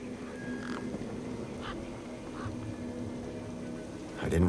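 Harsh, duck-like squawks from a flock of sharp-beaked birds guarding the back of a truck in the video game Beyond a Steel Sky, scattered over a steady ambient hum and swelling into a louder burst of calls at the end.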